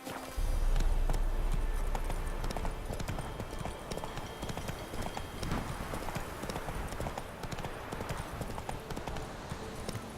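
Roach the horse's hooves clip-clop steadily on the ground in The Witcher 3, a continuous walking rhythm heard close over a low ambient background.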